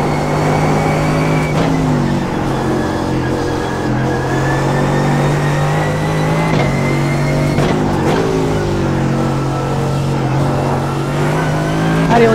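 Mercedes AMG GT3 race car on the Nordschleife in iRacing, loud engine holding high revs with downshifts and upshifts that drop and climb in pitch, close and continuous.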